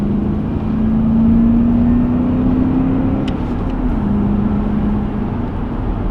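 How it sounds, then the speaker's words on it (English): A 2001 BMW E39 535i Sport with a 240 brake horsepower M62 V8 and five-speed manual accelerates onto a motorway, its steady loud engine drone rising slowly in pitch, briefly easing, then settling, with road and wind noise beneath and no talk. "Obviously, being a 240 brake horsepower V8, it does accelerate well."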